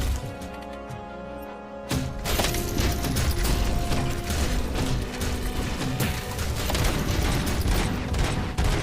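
A weapon reloads in a shooting video game with brief mechanical clicks and rattles. Dense, loud, continuous gunfire and explosions follow for the rest of the stretch.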